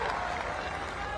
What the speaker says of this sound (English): Listen to the cheer.